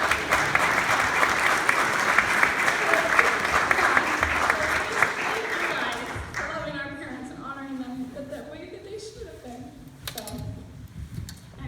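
Applause from an audience at a memorial, dense and steady for about six seconds, then thinning into scattered claps under faint talk and voices.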